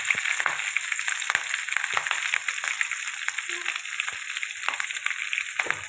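Green chillies and curry leaves frying in hot oil for a tempering while cooking a beans and carrot curry, a steady close crackling sizzle with brief sharper pops, heard alone.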